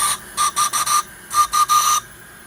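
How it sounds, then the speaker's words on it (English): A steam whistle on a 5-inch gauge Pompom steam engine at about 30 psi gives seven short, loud, even toots in two bursts, with a steady tone and no talking. "Whistle works."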